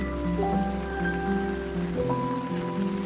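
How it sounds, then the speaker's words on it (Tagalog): Steady morning rain that has eased from heavy to moderate, an even wash of patter close by, with faint tonal sounds running beneath it. "Tapos, until now, nag-ulan pa pero hindi na masyadong malakas."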